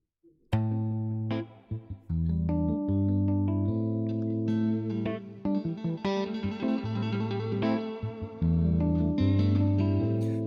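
Electric guitar with echo and chorus effects plays a melodic lick over a steady backing track, notes ringing out with shimmering repeats.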